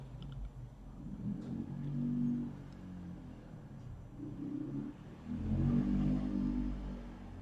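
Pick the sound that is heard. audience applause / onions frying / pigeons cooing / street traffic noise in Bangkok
street traffic noise in Bangkok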